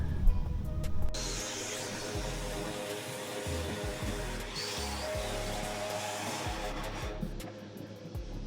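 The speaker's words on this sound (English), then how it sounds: "Just need to give it a hoover out now." A vacuum cleaner hoovers out the interior of a Ford Transit Custom van, a steady near whine and rush that starts after a second of handling noise and drops in pitch as the nozzle moves.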